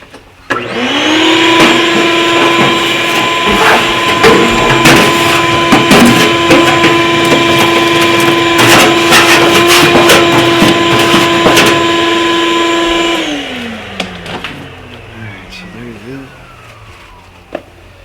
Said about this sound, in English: Just go ahead and vacuum this out.